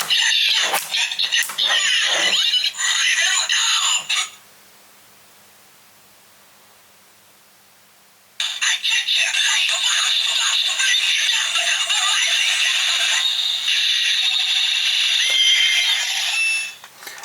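Bright, buzzy electronic jingle from a Kamen Rider DX Ganbarizing Gashat toy, cutting out for a few seconds of near silence, then resuming as a steady synthetic tone.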